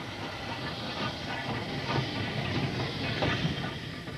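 A wartime train rolling past at a distance, with a low steady rumble and a faint clickety-clack rhythm under a soft hiss, fairly quiet and with no voices.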